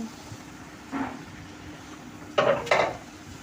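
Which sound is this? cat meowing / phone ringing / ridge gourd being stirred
ridge gourd being stirred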